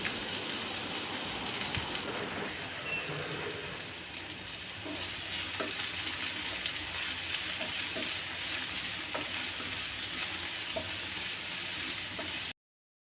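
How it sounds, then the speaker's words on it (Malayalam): Sliced onions fry in hot oil in a pan for a chicken biryani, giving a steady close sizzle with faint clicks of stirring, then cutting to silence at the end. "അരിഞ്ഞ് വെച്ചിരിക്കുന്ന സവാള നമുക്ക് ഫ്രൈ ചെയ്തെടുക്കാം."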